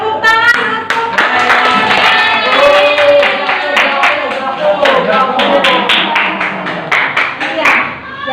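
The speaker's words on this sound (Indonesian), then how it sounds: "Tepuk tangan untuk" In a classroom, a group claps in a loud, quick, uneven rhythm close by, mixed with children's excited voices calling out over the applause.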